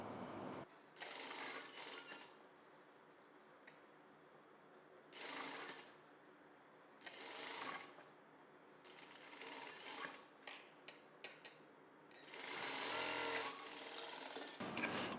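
A sewing machine stitches a blouse seam, with repeated short bursts of rapid mechanical whirring broken by pauses and faint handling of fabric, quiet and close.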